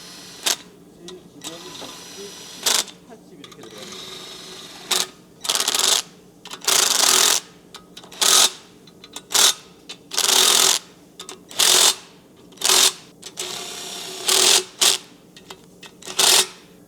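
An electric power tool runs down Mercedes M278 engine block bolts sprayed with WD lubricant, firing about a dozen loud, sharp whirring bursts separated by short pauses against quiet workshop background noise.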